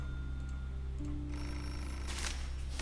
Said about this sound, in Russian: Телефон звонит.